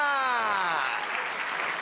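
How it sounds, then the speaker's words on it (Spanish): Church congregation clapping in praise during a Spanish-language service, a dense soft patter that follows a fading sung or spoken voice, steady and moderately quiet. "Denle un aplauso al Señor."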